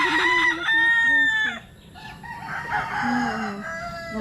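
A rooster crowing nearby, loud drawn-out cock-a-doodle-doo calls mixed with clucking from other fowl, heard alone without speech.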